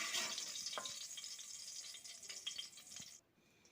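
Eggs coated in salt and turmeric half-fry in hot oil with a bright, steady sizzle and a few crackling spatters. The sizzle drops away sharply just before the end.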